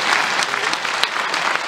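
An overseas Chinese audience gives warm, sustained applause at a choral concert, dense clapping from a large crowd filling the room with steady crackle and a few sharper claps standing out.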